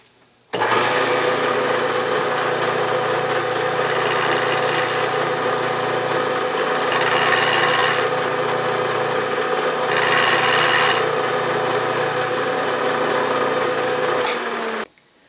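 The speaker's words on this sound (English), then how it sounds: "I'm just machining off the top of that lifting eye boss" A lathe or milling cutter machining off the top of a lifting eye boss on a small steam-powered dynamo casting, a steady close mechanical whirr with a gritty cutting texture that swells slightly in passes, running alone for about fourteen seconds.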